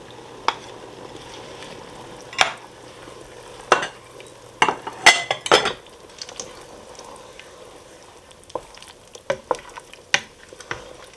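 Spinach wilts in a pot of Tuscan vegetable soup, with soft simmering underneath and scattered spoon clinks and scraping stir strokes, busiest in the middle and sparse toward the end.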